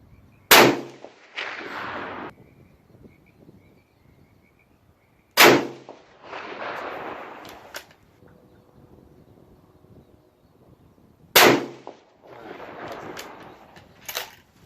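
Three sharp, loud Remington 783 rifle shots, spaced about five seconds apart outdoors, each cracking hard and followed by a rolling echo that fades into quiet.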